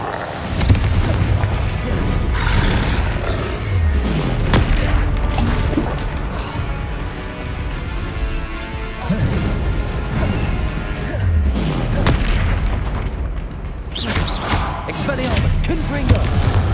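Repeated Confringo fire spell blasts in Hogwarts Legacy, heavy booming impacts and crashes bursting every few seconds amid a dense, noisy combat din.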